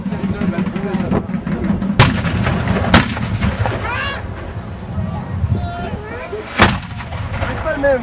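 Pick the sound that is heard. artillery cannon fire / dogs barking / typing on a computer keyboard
artillery cannon fire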